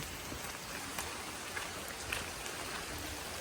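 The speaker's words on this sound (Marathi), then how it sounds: "पाऊस काय थांबायचं नाव घेत नाही" Dense, steady rainfall hisses continuously in Konde village, Ratnagiri, Konkan, a heavy downpour with no pauses and no voices.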